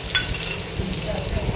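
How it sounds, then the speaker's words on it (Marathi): Finely chopped onion sizzles and crackles in hot oil in a kadhai on a gas stove for chicken sukka, a steady dense frying hiss up close with no talk. "बारीक चिरलेला कांदा टाकून घेते."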